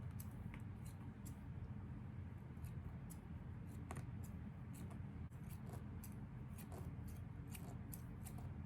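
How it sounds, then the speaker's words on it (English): Quiet, crisp snipping of thinning shears trimming the hair on a Michael Myers mask, many small clicks in irregular bursts over a steady low background hum. "I love these thinning shears"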